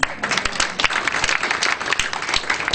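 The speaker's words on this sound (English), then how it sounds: "let's give her a round of applause" An audience at a Black heritage tourism talk applauds with steady, dense clapping that carries throughout, and a voice speaks briefly as the applause goes on.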